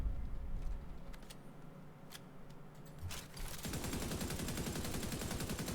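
A FAL rifle in The Division 2 opens up after a few quieter clicks and thuds, then fires a fast, continuous burst of rapid, evenly spaced shots that stays loud to the end.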